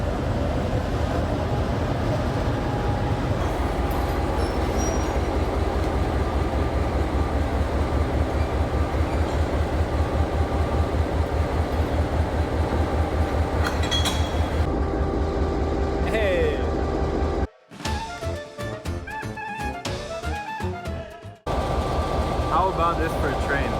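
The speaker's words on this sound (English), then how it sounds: "It's an old Yugoslav train." An old Yugoslav passenger train running from Skopje to Prilep rumbles steadily with rhythmic clickety-clack of wheels on rails, then drops out abruptly near the end amid brief clattering before the rolling noise resumes.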